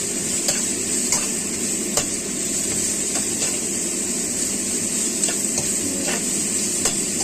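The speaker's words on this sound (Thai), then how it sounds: "เราต้องคั่วหมูให้สุกก่อนนะครับทำหมูให้สุก" Pork stir-frying in a pan for holy basil pork: a dense, continuous close sizzle broken by sharp spatula clicks and scrapes against the pan at irregular intervals, with no talking.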